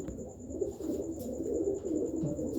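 Pigeons coo quietly in a loft, a low continuous murmur of overlapping throaty coos with a faint background hum, no voices.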